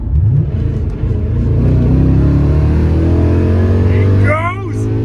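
A BMW E31 coupe with a swapped S62 V8 drops a gear and accelerates hard on its first test drive, the engine note rising steadily in pitch and staying loud before a brief gear change near the end, with talk inside the car.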